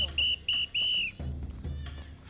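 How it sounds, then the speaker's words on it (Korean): A goat on a mountain path bleats in several short, close, wavering cries, with lower rumbling sounds afterward. "다시 산길로 들어선 제작진 앞에 나타난 의문의 염소 한 마리."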